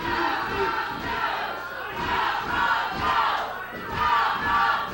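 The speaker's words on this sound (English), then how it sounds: "You hear the fans here." Wrestling fans in an arena shout and jeer as a crowd, a steady roar of many voices that swells in rhythmic waves of chanting, moderately loud and slightly distant.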